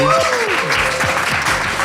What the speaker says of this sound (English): A round of applause for the brilliant Natalie Portman.